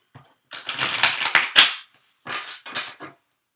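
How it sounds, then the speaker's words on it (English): Cards are shuffled in quick papery riffles, a long rattling burst followed by two shorter ones, close up with no talking. "Let me give it one more shuffle."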